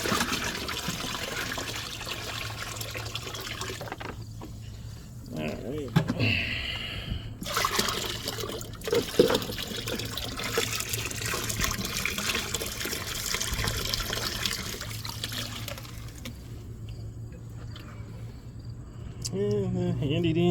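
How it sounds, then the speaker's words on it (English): Water poured out of a gold prospecting pan or container, splashing and trickling in uneven bursts under outdoor background noise, with a person talking at times. "So, get rid of most of the water that's in there."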